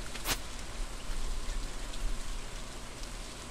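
Steady rain falls in Stardew Valley, a dense, even patter of drops on the ground that fills the whole stretch, close and continuous with no voices.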